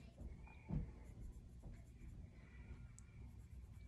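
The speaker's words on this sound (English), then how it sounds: "Draw a light with your pencil so that we can erase if we need to." A pencil draws light lines on paper for grid drawing practice, a soft continuous scratching with a few quick strokes, close and very quiet.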